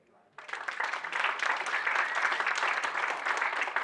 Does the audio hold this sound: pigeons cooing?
no